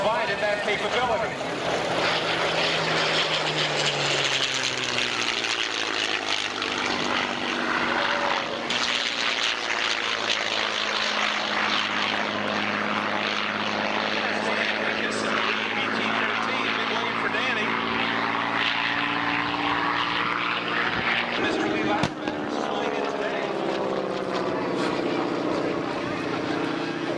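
At an air show, the Merlin-powered P-51 Mustang 'Crazy Horse' makes a sustained flyby, its engine drone rising and falling in pitch as it sweeps past, while a voice talks over the public address.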